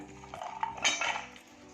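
Cooked mung beans and chickpeas being moved into a vessel in a home kitchen, with a few metal utensil clinks and scrapes against a dish, close and brief.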